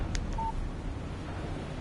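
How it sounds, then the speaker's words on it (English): A phone's text message alert in the Alan Wake video game, a single short electronic tone after a faint blip, heard over a low steady background hum. "Text message from Barry."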